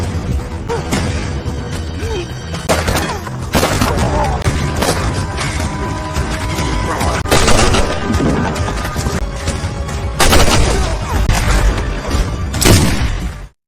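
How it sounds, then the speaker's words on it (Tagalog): Gunfire is exchanged in a movie shootout, with repeated loud bangs and crashes scattered across a dense, continuous action soundtrack, some shots standing out sharply. "nakipagpalitan ng putok si Baudry kay Alejandro at sa kanyang mga tauhan"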